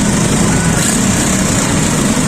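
A small service vehicle's engine, newly running again after its wiring was repaired, runs loud and close in a steady, buzzing drone with no voices over it.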